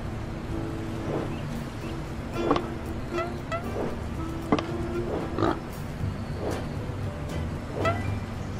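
A pig in the video game Leisure Suit Larry: Wet Dreams Dry Twice grunts and oinks in short, rough bursts roughly every second, over a steady low background hum.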